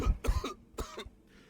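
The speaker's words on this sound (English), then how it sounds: "Why is he coughing so much?" A character in the video game Genshin Impact coughs in a rough, close burst: several harsh coughs, a short pause, then two more.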